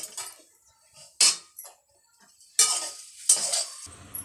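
Poha roasting in a pan, turned over with two spoons: sharp metallic scrapes and clinks in bursts, separated by near-silent pauses, with a faint sizzle underneath.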